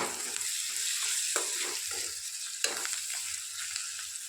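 A Telangana bottle gourd curry is stirred in the pan after chopped coriander goes in, with a steady sizzle under repeated scraping strokes of the spoon and a couple of sharp clinks against the vessel.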